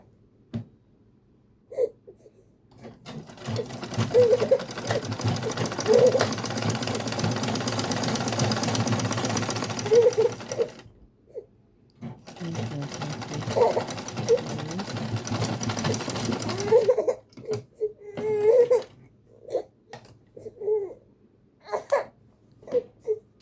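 Sewing machine top-stitching a pocket cover on ankara cargo pants, running in two long steady bursts of about seven and five seconds with a short pause between, followed by scattered handling clicks and thumps.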